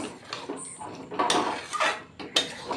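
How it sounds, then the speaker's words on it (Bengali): A metal spoon stirs ridge gourd and sesame sambar in a pan, giving several close clanks and scrapes against the pan at an uneven pace, with no talk. "এইবার নেড়ে চেড়ে মিশিয়ে আমি নামিয়ে নেব"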